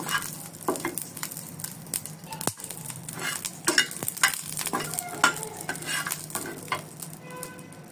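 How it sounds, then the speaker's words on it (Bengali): Green chilies fry on a hot tawa for a coriander-leaf bharta, giving a steady close sizzle with scraping and stirring clatter and occasional sharp pops throughout. "মরিচগুলো ভাজা হয়ে গেছে, বেশি ভাজবো না।"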